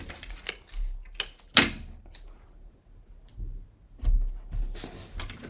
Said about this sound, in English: I'll go ahead and tape those pages together.